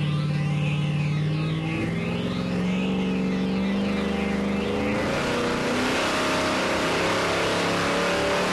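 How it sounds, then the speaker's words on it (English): A Ford XR8 engine revs hard on a dyno, a loud, close, continuous roar with a rising, sweeping pitch that settles into a dense steady howl. "I've got the XR8 on the dyno at the moment"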